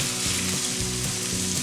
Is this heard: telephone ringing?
no